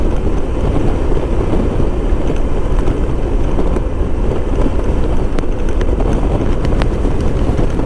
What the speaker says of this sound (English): It's more windy over here than it was over by me in the south side, Sunrise Highway.